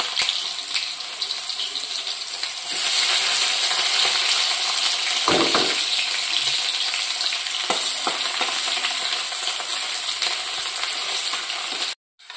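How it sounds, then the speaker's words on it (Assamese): Onions frying in a wok, a dense, continuous hiss and crackle with occasional scraping stirs and a brief utensil knock, then a sudden cutoff near the end. "পিয়াজটো ফ্ৰাই হৈ গ'ল"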